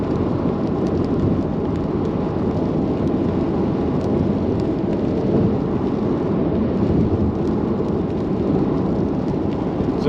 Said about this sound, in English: now we're getting all this rain